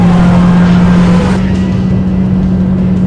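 Race car at high speed through a corner on a track, engine holding a loud steady drone with a slight drop in pitch midway, close and continuous with no talk.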